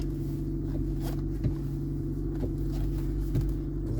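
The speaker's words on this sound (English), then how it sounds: "okay, the car started right up." A Dodge Charger Daytona's engine idles just after starting, a steady low rumbling drone with a few faint clicks, heard close with no voices.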